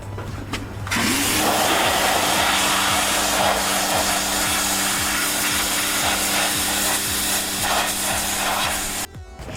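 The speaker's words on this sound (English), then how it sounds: "we're gonna use some degreaser and we're gonna clean the fan clutch" A BMW E46 fan clutch being cleaned with degreaser, a steady, close, broadband hissing spray with faint rubbing that runs for about eight seconds before cutting off abruptly.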